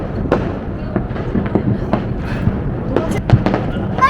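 New Year's Eve fireworks crack and pop all around at a steady, scattered rhythm, several sharp bursts standing out over a constant background of distant explosions, with voices talking faintly underneath.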